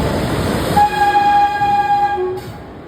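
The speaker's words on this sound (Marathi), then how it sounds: "आपली ट्रेनचं आगमन होते. ट्रेन आता जस्ट प्लॅटफॉर्मवर लागेल." A passenger train arrives at a platform, its rumbling approach topped by a long, loud sustained horn blast lasting over a second before it fades.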